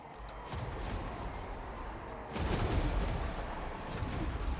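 Dense, rumbling bombardment from a Total War: Warhammer 2 battle, with artillery and defensive tower fire thudding continuously and swelling louder midway, no voices heard.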